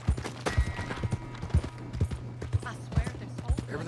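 Horse hooves clip-clop at a steady walking pace in Red Dead Redemption 2, with about eight evenly spaced, close thuds over a low ambient hum, while someone speaks Spanish over them.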